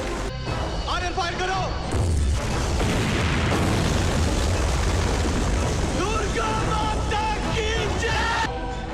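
A rocket launcher explosion in a war film, the Kargil-set L.O.C. Kargil, bursts as a loud, sustained crashing boom with rumbling debris, dense and continuous for several seconds and mixed with shouting voices.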